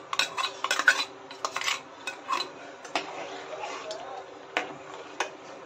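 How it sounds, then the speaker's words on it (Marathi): A spoon stirs ground dry fruits into milk for a custard milkshake, clinking and scraping against the vessel in a quick burst early on, followed by sparser taps and soft swishes at close range. "आता जे आपण ड्रायफ्रूट बारीक करून घेतले ते दुधामध्ये मिक्स करून घेऊया।"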